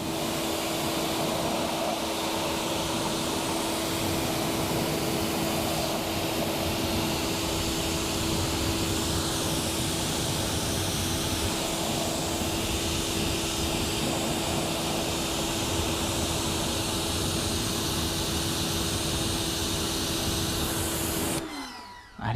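A dirty car wheel being rinsed down with water: a steady, loud, close hiss of spray running without pause for about twenty seconds, then cutting off abruptly at the end.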